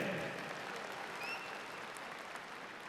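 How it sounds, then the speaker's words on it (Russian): Faint, steady audience applause at a harvest festival (Dazhynki) in Vitebsk, a dense wash of distant clapping that fades slightly toward the end. "Полина Балашенко, ваши громкие аплодисменты."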